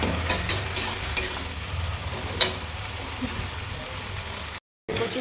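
Taro leaf greens with tomato being stirred and fried in a pan, a steady low sizzle with scattered scraping stir strokes, close and fairly loud, with a short silent gap near the end.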